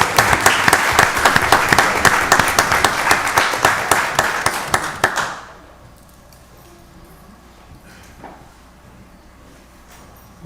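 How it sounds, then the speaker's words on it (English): A round of applause fills a commissioners meeting, many hands clapping loudly and densely for about five seconds before breaking off abruptly into a quiet room with faint murmurs. "Give another round of applause."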